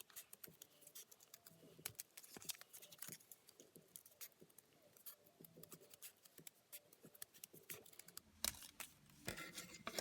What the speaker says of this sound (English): And now I'm just going to take my scissors and cut these out.